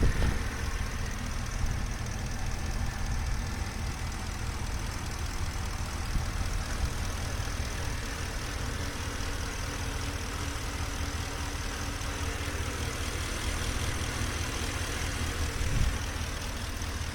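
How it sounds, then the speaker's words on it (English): A 2014 Ford F-150 SVT Raptor with a Hennessey VelociRaptor conversion idles steadily, a low, even engine rumble that holds constant and fairly quiet throughout, with no voices. "Engine runs very smooth and very quiet."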